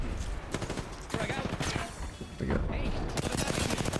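Rapid automatic gunfire in Apex Legends, with loud, close bursts of repeated shots broken by short gaps, mixed with other game effects and an excited voice talking over it.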